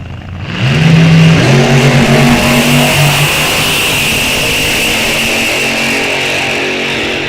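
At the Rock Falls Raceway Fall-Out Drags, drag cars with 327 cubic inch and 600 engines launch off the line with a loud roar. Revs climb through quick gear changes, then the sound holds as a sustained engine drone down the strip.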